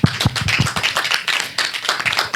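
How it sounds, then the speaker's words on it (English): A small audience giving a round of applause at a community interview event, loud, close, distinct individual claps in an uneven, lively rhythm. "I'll give you one more round of applause."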